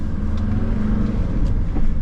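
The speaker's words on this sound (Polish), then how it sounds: "Jak ładnie chodzi ten silnik" The five-cylinder diesel of a 1981 Mercedes 300D taxi with a million kilometres on it runs at a steady idle, giving a continuous low rumble heard close and fairly loud without talk.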